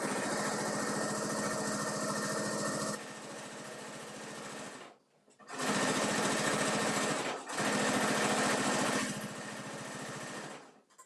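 Sewing machine stitching a firm seam through cotton fabric, a fast close mechanical whir running in long bursts with two short pauses between runs, no talking.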